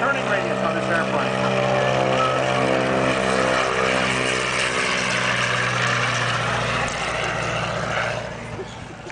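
A propeller airplane flies at an air show, its engine droning steadily and loudly with sustained harmonic tones throughout before easing slightly near the end; a voice speaks over it.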